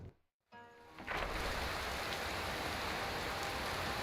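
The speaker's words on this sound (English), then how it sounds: "And it's raining." Steady rain pours in the Skyrim game world, a dense, even hiss of falling water that swells in after a brief hush and then holds loud and constant.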